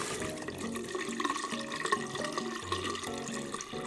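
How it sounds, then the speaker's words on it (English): Water runs from a twist tap into a sink, a soft trickling stream with faint drips, quiet and close, mixed with light background music and no speech. "Twisty taps are super fun. Twist it left to make it run."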